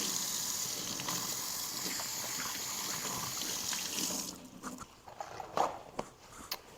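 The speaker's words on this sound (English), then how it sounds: "Wash my hands real quick." Running tap water splashes over hands at a kitchen sink after handling beet-red soy chorizo, a steady broad wash for about four seconds, then stopping into scattered drips and small knocks.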